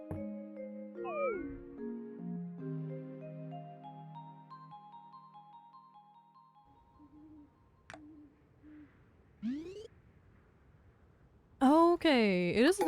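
Cartoonish cat meows from a cozy life-sim video game, a couple of short mewing calls rising over gentle game music and chimes, with a bright jingle near the end.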